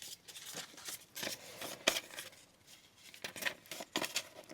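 Scissors snip through paper being trimmed into craft pockets, a quiet series of short irregular cuts and rustles close by.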